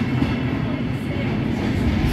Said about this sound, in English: this train takes all the wood and timber from all the trees that's been pulled down